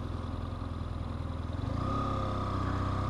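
A 2015 BMW F 800 R motorcycle engine while riding: a close, steady, throbbing drone that rises slightly in pitch and grows a little louder partway through.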